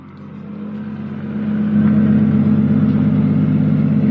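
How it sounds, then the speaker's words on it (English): A Toyota JZX100 fitted with a titanium exhaust revs up close by, its engine rising from a low rumble into a loud, sustained drone that holds steady to the end. "Give it another rev."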